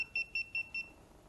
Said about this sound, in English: It goes beeping and it says there is an AC power line.